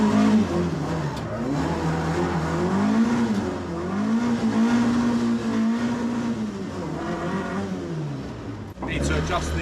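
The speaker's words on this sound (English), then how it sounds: "Need to adjust the throttle cable, the revs are hanging on." Car engine revving with the revs hanging on from a sticking throttle cable, the pitch rising and falling slowly in repeated sweeps, loud and close, cut off by a brief clatter at the end.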